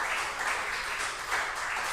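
Congregation applause during a Spanish-language church service, a steady wash of many hands clapping at a moderate distance with no clear speech over it.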